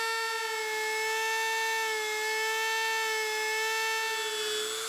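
A high-pitched Dremel rotary tool cutting wood whines steadily at constant speed, a loud, sustained, even tone with no pauses.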